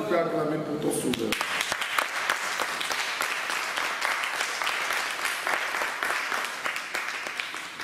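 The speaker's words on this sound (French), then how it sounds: "Tu peux acclamer pour ton Sauveur." French-speaking church congregation breaks into sustained applause and acclaim after a preacher's words, dense clapping following a brief spoken lead-in and continuing steadily with scattered vocal cheers.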